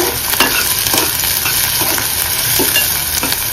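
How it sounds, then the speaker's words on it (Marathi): Onion sautés in hot oil in a pan after mustard seeds and cumin, a close, steady sizzle broken by regular stirring scrapes, with no talking. "कांदा व्यवस्थित परतून घ्यायचा"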